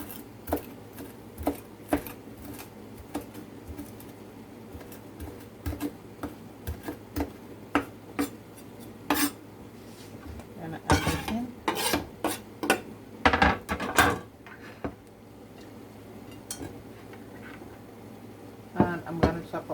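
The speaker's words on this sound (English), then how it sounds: "I'm just gonna chop that up" A knife chops fresh parsley on a board in a series of crisp, irregular taps. The taps come in short bursts and turn denser and louder partway through, close to the mic.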